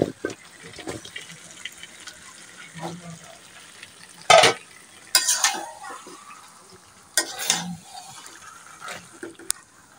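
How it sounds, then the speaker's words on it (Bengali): Chicken pieces and new potatoes are turned through a pan of fried-down spice paste, giving scraping stirs and soft sizzling with a few louder clatters of the spoon against the pan. No talking. "কষানো মশলার সাথে মাংসগুলোকে নেড়েচেড়ে মাখিয়ে নিচ্ছি"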